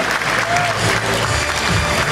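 Audience applause at a school graduation ceremony marking the last bell, a steady wash of clapping from a crowd throughout, with faint background voices mixed in.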